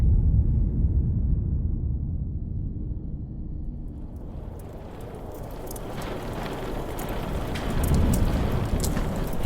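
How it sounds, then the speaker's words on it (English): Heavy rain pours steadily through a stormy night on a rocky lighthouse shore, with a deep rolling rumble of thunder building and swelling near the end, no voices. "It was a stormy night on the rocky shores of the Watchman's Peninsula."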